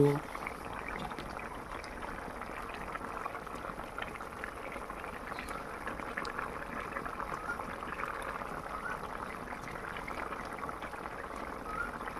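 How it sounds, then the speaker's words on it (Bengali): Thin fish curry broth with rohu, potatoes and taro bubbling steadily in a pot, a continuous close simmering hiss and burble. "ঝোলটা খুব সুন্দরভাবে ফুটে গিয়েছে"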